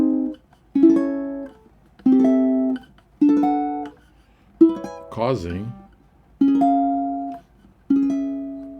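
A custom I'iwi tenor ukulele rings out clean, buzz-free plucked notes, about seven separate strums or chords, each decaying before the next, with one brief bending, wavering phrase near the middle.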